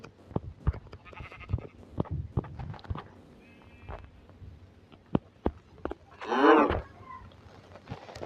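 Several short bleats and thumps, then one loud, drawn-out sheep bleat near the end, fairly close, in the video game Minecraft.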